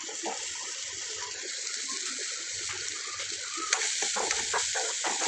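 Radish pieces go into a pan of onions being sautéed for radish chutney, giving a steady close sizzle with brief stirring scrapes and no talking.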